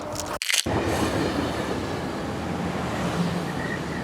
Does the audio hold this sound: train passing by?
yes